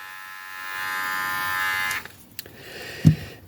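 Philips Multigroom 9000 trimmer running with a steady, quiet electric buzz and whine, then switching off, followed by a few faint clicks and a soft thump near the end.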